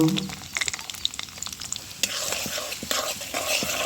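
Onions sizzle and fry in hot oil as they are stirred in a pan while cooking shrimp with colocasia leaves, a steady crackling hiss broken by scraping stirs, growing louder partway through.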